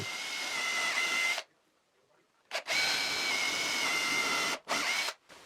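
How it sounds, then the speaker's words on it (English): A power drill whirs steadily into the wood of a router table top in two long bursts separated by a pause, then a few short stop-start pulses, close and loud. "Inside, in the wood, I drill a narrower hole."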